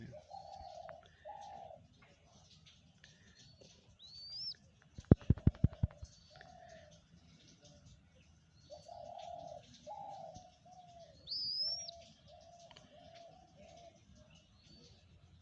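Dove cooing: soft, repeated low coos in short phrases recur throughout, with faint chirps and a brief burst of clattering taps midway, heard at close range in a quiet setting.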